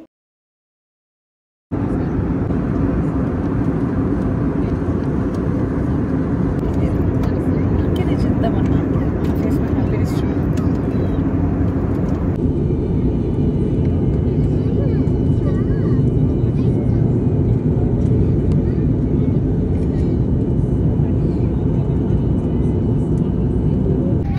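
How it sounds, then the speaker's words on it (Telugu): An airplane takes off on an evening flight from Hyderabad to Kashmir, heard from inside the cabin as a loud, steady engine roar and rumble that keeps going without a break, with faint voices now and then. "సో ఇంకా టేక్ ఆఫ్ అయిపోతుంది"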